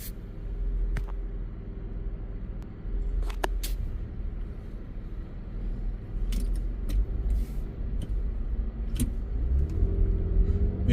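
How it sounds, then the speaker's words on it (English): A big diesel truck rumbles steadily nearby as it turns slowly on a street in southern Los Angeles County, a low continuous engine drone with occasional brief higher noises and no talking. "Diesel truck took 1 minute just to turn."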